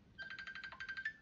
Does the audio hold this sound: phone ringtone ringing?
yes